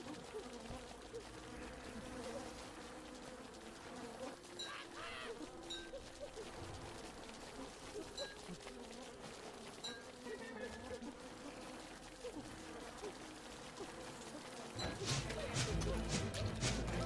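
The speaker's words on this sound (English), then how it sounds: "Oh, the bees are fighting!" Buzzing bees fighting in the survival game Don't Starve: Shipwrecked, a steady insect drone layered with game music and effects that swells louder near the end, with a person talking over it.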